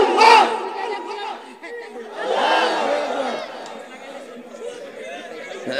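A crowd at a religious gathering chants a slogan together, loud shouted bursts rising and falling with short gaps between calls.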